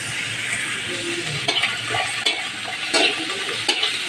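Ginger garlic paste fries with browned onions in a pan, a continuous close sizzle broken by several scraping strokes of a spoon stirring, with no talking.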